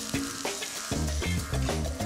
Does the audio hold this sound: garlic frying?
yes